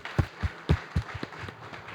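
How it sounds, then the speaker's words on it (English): Scattered, uneven handclaps from a small audience at a fireside chat, a handful of sharp claps spaced irregularly and fading out within a couple of seconds, fairly close and alone without talk. "Round of applause."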